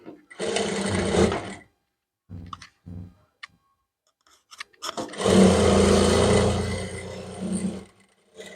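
Sewing machine stitching an umbrella frock, two loud runs of rapid whirring stitches separated by quiet pauses with a few brief short bursts in between.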